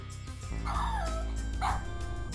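In the video game King's Quest VII, a dog gives a couple of short, yippy barks over a busy layer of game sound and music.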